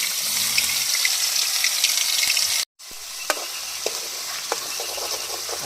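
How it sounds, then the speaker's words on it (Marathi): Onion and coconut paste fries in a pan with a loud, steady close sizzle, a brief dropout midway, and scattered spatula clinks and scrapes as it is stirred, no voices. "कांदा खोबरा खोबऱ्याचं वाटण आहे तर ते आधी आपण तळून घेऊयात"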